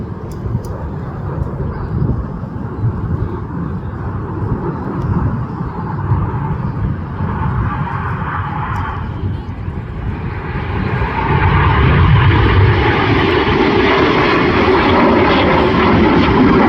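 A Red Arrows display jet flies overhead at a Midlands air show, its loud, continuous engine roar swelling and brightening in the second half as it passes close, with no speech.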